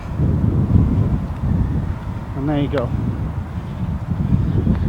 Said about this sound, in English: Very windy at the moment, you might hear it.